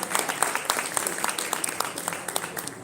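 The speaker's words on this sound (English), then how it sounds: "Please give me a round of applause." Audience at an executive business dinner breaks into applause, sustained clapping with distinct individual claps audible throughout, moderately loud and without speech over it.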